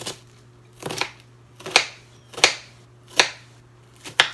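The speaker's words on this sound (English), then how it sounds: "I'm just gonna chop him down real quick." Onion being chopped on a cutting board for a skillet breakfast with eggs, spinach and diced tomatoes: six crisp knife strikes spaced unevenly about every two-thirds of a second, close and distinct, with a steady low hum underneath.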